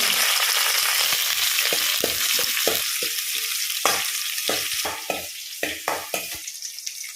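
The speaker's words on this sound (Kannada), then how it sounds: "ಸಾಸಿವೆ ಸಿಡಿಯುವಾಗ ಆಗ ಅರ್ಧದಷ್ಟು ಈರುಳ್ಳಿ ಹಾಕಿದ್ದೇವೆ ಈಗ ಒಂದು ಅರ್ಧ ಈರುಳ್ಳಿ ಹಾಗೆಯೇ ಸ್ವಲ್ಪ ಕರಿಬೇವು ಒಣಮೆಣಸು" Mustard seeds pop in hot oil as onion, curry leaves and dried red chilli fry for a tempering. A steady close sizzle is broken by sharp, irregular crackling pops that grow sparser toward the end.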